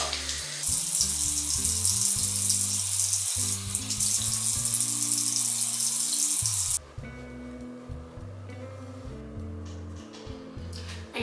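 Steady rushing water from a faucet fills the first seven seconds, then drops away to quieter clattering and handling sounds.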